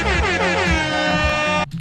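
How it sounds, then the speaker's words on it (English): A loud, blaring air horn sounds continuously for almost two seconds, with slightly wavering pitch, then cuts off abruptly. "with an air horn sound"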